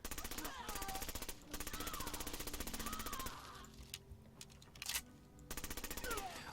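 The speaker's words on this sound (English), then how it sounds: "you can listen to what this gun sounds like" A suppressed H&K MP7 mod in Fallout 4 fires in rapid full-auto bursts, with long continuous strings of fast, even, muffled shots broken by short pauses and a few scattered single shots.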